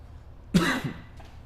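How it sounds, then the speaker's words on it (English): A single, close cough bursts out sharply in a quiet room, followed by a faint throaty trailing sound. "I feel like I have to cough a little bit."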